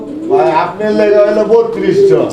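Pigeons coo in low, throaty bursts close by, partly covered by people talking over them.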